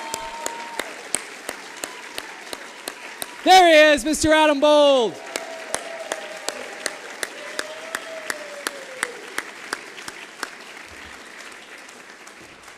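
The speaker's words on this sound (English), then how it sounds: "Hey, clap for Duluth." Scattered claps ring out at an awards moment of a content festival, sparse sharp hits repeating through the clip while someone speaks, with a burst of loud cheering or whooping in the middle.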